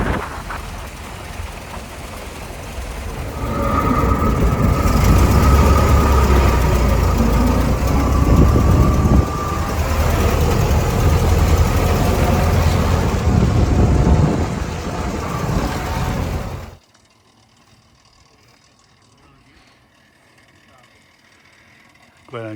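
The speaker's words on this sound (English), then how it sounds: "Just kind of idling along." A 1927 Ford TT truck engine idling along, loud and close, with a rough, steady low rumble and mechanical clatter for most of the stretch before it drops away abruptly near the end.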